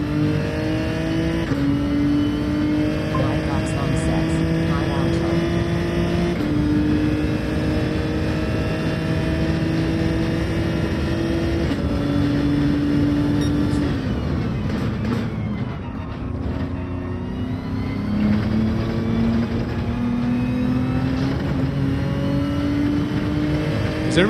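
Gran Turismo 7 race car engine in a daily race, continuously loud and close, revving up through gears with repeated upshifts, a brief lift around a chicane, then accelerating again.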